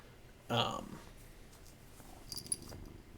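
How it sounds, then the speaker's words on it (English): A house cat that has jumped onto a lap gives a short, close burst of purring and faint rustle, followed by quiet room tone and a soft tap near the end. "My cat just jumped on my lap."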